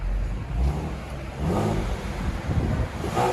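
Ford Mustang 3.7L V6 on its stock exhaust revving in short bursts, a loud close engine note rising and falling about three times.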